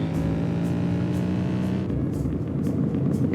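A sports car driving in the Roblox game Southwest Florida, its engine a steady loud hum with a rising tonal whine that drops off partway through, then continues as a rougher, lower drone with faint rhythmic pulses.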